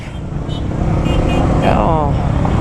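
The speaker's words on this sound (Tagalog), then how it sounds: "Eto na ang traffic." Busy road traffic at Sapote, with cars and many motorcycles bunched together, forms a loud, continuous engine rumble close by, with a passing vehicle swelling briefly in the middle.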